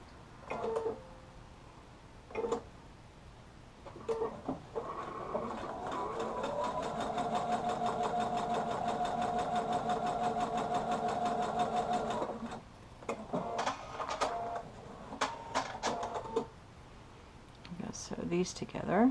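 A sewing machine stitching quilt block pieces together runs in one steady mechanical whir for about five seconds, with quieter rustling and brief stitching bursts before and after.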